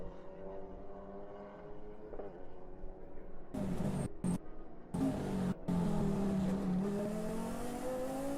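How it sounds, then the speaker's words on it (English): An onboard GT race car drives through a sector of Autodrom Most circuit, its engine droning steadily and rising in pitch through the gears, with abrupt cuts in the sound and a strong, sustained roar. "It's great to hear the sound of the car as well, going through the second sector of the circuit"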